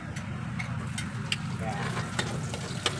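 Garlic frying in a pan for a home-cooked giniling with potatoes, a soft steady sizzle with a few light clicks of stirring, faint and close.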